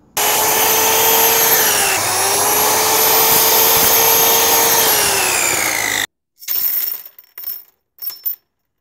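A saw with a specialized aluminium blade cuts metal in a loud, continuous high-pitched whine lasting about six seconds, its pitch dipping under load, then stops, followed by a few short scraping and clinking sounds.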